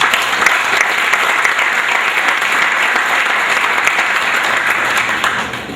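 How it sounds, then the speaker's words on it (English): Sustained applause from an audience at a school sports banquet, steady and full for several seconds before easing off at the end, with no talking. "a round of applause for those people"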